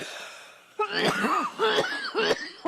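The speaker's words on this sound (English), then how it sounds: "That was a rank amateur cough." A series of harsh, raspy coughs, four or five bursts in quick succession, close and fairly loud after a quiet start.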